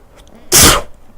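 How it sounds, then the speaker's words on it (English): A single loud sneeze bursts out close up, with a sharp onset and quick fade, heard alone with no talking. "I need to sneeze."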